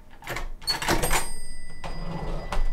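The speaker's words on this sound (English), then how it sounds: "Let's go ahead and open the drawer. We can use our key." An electronic cash drawer is unlocked with a key and opened: a few clicks and a brief metallic rattle, then sliding and clunking of the drawer and tray at close range, with no talking.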